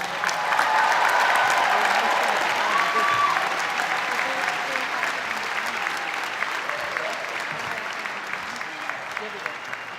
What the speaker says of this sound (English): Now please join me in another round of applause for all of our graduates.